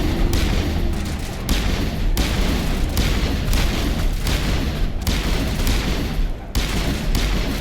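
Dense, loud gunfire rattles nonstop in a Mass Effect firefight, with repeated handgun shots and heavy booms packed into overlapping bursts and no clear pauses.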